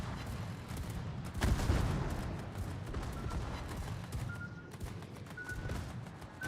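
Mistral's secondary battery guns fire during a World of Warships naval battle, a faint, rapid string of muffled gunshots and booms set against steady in-game battle noise.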